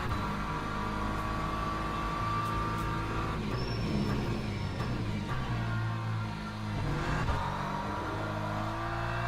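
Race car in the video game Le Mans Ultimate, engine roaring loud and close as it accelerates and shifts, revs rising and dropping, with a brief dip around a braking point.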